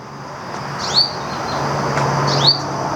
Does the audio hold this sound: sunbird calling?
yes